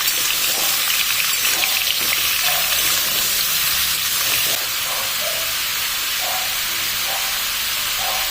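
Raw mango pieces frying with dried red chillies in oil in a pan for a sweet-sour mango pickle: a loud, steady sizzle and hiss, punctuated by intermittent scraping and knocking as the pieces are stirred.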